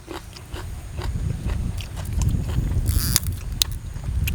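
Crunchy raw bitter gourd is bitten and chewed close up, a run of crisp crunching bites repeating over several seconds with no talk.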